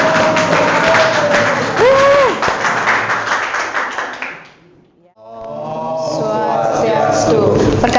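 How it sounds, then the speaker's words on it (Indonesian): Classroom applause for a student group after a biology class presentation: a burst of clapping from many hands that fades out midway, followed by students talking. "tepuk tangan buat kelompok 4"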